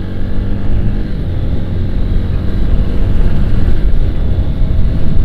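A Honda Sonic 150R motorcycle accelerates to overtake on the road, its engine droning loudly and steadily under strong wind rush, heard from the rider's position.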